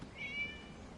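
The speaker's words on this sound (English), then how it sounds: "It was just a cat." A short, faint meow from a cat in a video game rises and falls once over quiet background ambience.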